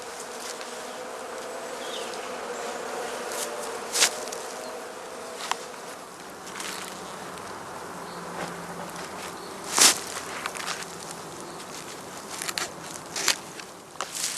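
Honey bees fly in and out of the open entrances of heather skep hives in an apiary in spring, a steady droning buzz with individual bees zipping close past at intervals, alone with no voices.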